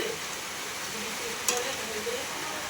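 Prawn curry simmers and bubbles steadily in a pan with a soft, even sizzle throughout. One brief sharp clink is heard partway through.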